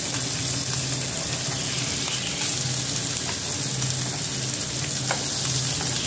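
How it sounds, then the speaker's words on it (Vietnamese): A kitchen range hood fan runs steadily during home cooking, giving a loud, continuous whooshing hum with no breaks. "về cái bếp thì mình phải hút mùi nó kêu ù"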